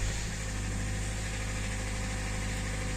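Kia/Hyundai G4NB 1.8-litre petrol engine running at idle after start-up with a characteristic knock, a steady close-up drone with a low pulsing hum throughout and no talk.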